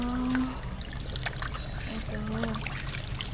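Water trickles and dribbles out onto a street, a thin continuous splashing flow heard close up, with tonal background sounds and faint activity but no clear speech.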